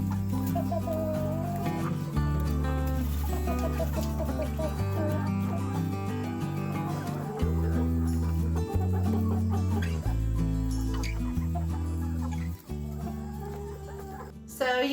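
Hens cluck and murmur in short bursts while eating crushed eggshells, over a loud, steady background of music, with a person talking briefly.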